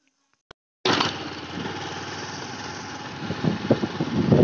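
A motorcycle engine starts up abruptly after a brief near-silence with one faint click, then runs as a steady near drone with rising revs and bursts toward the end as the bike sets off on a village ride toward the forest.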